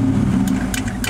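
A car engine drones and revs close by in a short burst, with a steady low rumble and faint clicks above it.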